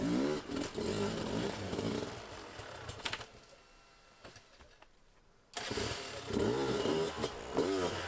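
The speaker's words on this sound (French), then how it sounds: "Et il réussit, Mario Roman, en remettant les gaz et en jouant avec sa moto" Sherco enduro motorcycle on a slippery hard enduro race track, its engine revving hard in loud bursts, dropping to near quiet for a couple of seconds before the throttle opens up again.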